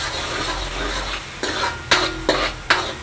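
Malvani chicken masala is stirred in a pan with a spoon, giving several distinct scraping knocks over a soft background sizzle.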